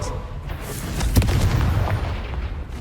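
Deep booming blasts and low rumbling impacts from an explosion spell cast in Hogwarts Legacy, with a sharp crack near the middle, loud and close within game audio.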